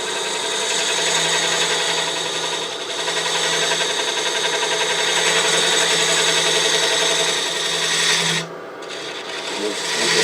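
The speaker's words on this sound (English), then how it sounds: "now I'm going to use my detail spindle gouge to make sure I've got a nice clean dovetail" Detail spindle gouge cutting a dovetail tenon on a cherry burl bowl spinning on a lathe, a continuous loud rasping scrape with a steady underlying motor hum, dipping briefly near the end as the tool lifts.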